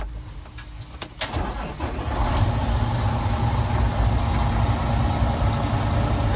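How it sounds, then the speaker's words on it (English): Truck engine cranked and started for an air system test, a few clicks and a brief cranking burst before the engine catches and settles into a loud, steady fast idle close by. "First thing you're going to do is crank the truck up"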